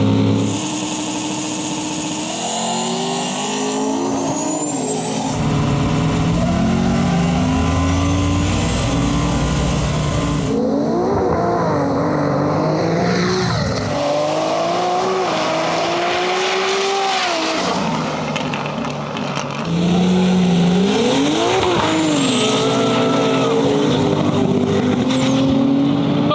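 A no-prep drag race between an M-Tech BMW M3 and a turbocharged Foxbody Mustang, with loud engines revving and roaring, pitch sweeping up through gear changes, tires squealing and a turbo whistle, running continuously with brief lulls between runs.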